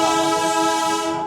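The Darjeeling toy train sounds a loud, sustained horn blast while running through Sukna forest.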